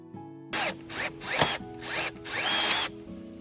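A power drill drives a screw into wood for a DIY compost bin, whirring in five loud close bursts of rising and falling motor pitch, with short pauses between and a crack as the wood splits.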